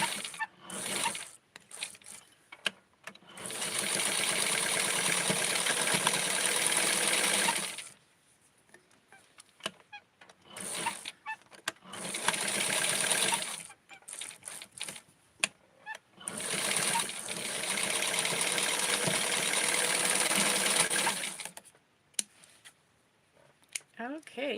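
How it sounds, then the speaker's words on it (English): Sewing machine stitching Barbie doll clothes such as nylons and a dress, running in three long steady whirring bursts separated by quieter gaps of handling clicks and faint talking, close and fairly loud while it runs. "I'm going to sew it one more time."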